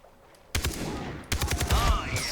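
Gunfire in the Far Cry 3 video game, a loud burst starting after a quiet half-second, then a second denser volley of rapid shots with a ringing tail, close and dominant.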